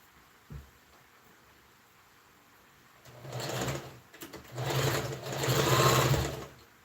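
A sewing machine stitches organza ruffled sleeves, running in a few short bursts after a brief click, close and fairly loud with no talking.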